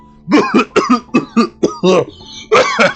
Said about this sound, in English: Instinctively, I cough as I enter.